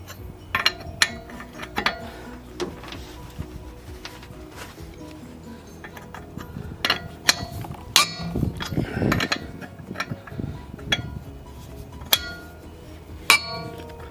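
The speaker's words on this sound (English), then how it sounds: "And release the nut." Metallic clanks and clinks of a wrench working a car wheel nut loose during a DIY tyre change, scattered sharp hits with quieter gaps and faint background noise between them.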